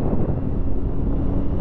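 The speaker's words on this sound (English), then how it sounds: "Real windy." Strong wind buffets the microphone outdoors on an overcast day, a loud, continuous low roar with steady gusting and no pause throughout.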